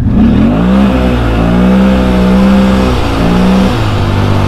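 Engine of a vehicle fitted with a CVTech clutch and mismatched tires revving hard during an acceleration test, a loud sustained drone with pitch climbing and holding near the limiter, dipping briefly then rising again, with no talk.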